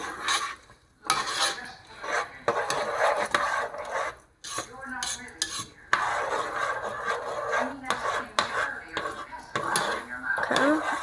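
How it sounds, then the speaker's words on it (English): Rice cooking with sauce for red rice, stirred in a pot: repeated scraping and clinking of a utensil against the pot, irregular bursts near the microphone with brief pauses. "I'm going to stir"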